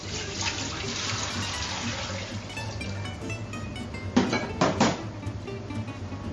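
Water poured into a cooking pot to start a rhubarb syrup, a steady close splashing and running-water rush with a few clanks of the pot toward the end.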